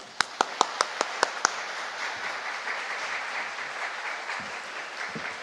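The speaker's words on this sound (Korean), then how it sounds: "목사님을 환영하는 마음을 담아 우리 박수로 환영하겠습니다." A church congregation claps to welcome a pastor at a Sunday afternoon service: a few sharp, evenly spaced claps up front lead into sustained, moderately loud applause from the room that carries on steadily.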